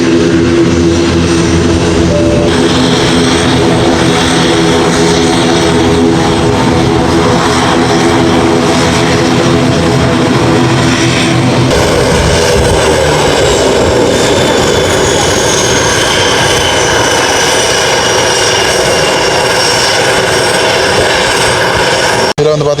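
A fixed-wing propeller airplane lands at Jaffna airport, its loud, continuous engine roar droning throughout and shifting pitch midway as the aircraft slows on the runway.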